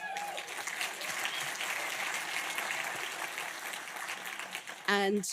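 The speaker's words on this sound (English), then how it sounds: "please, give them a huge round of applause" An audience applauds at the SBIFF 2025 Variety Artisans Award ceremony, steady dense clapping filling the room throughout, with a voice cutting in briefly near the end.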